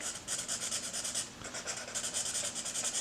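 Felt-tip marker rubbing back and forth on paper while colouring in a shape, a steady rhythmic scratchy stroke pattern heard close and fairly quiet with a brief pause midway.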